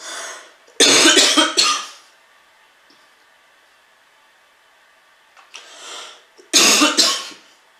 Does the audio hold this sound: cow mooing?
no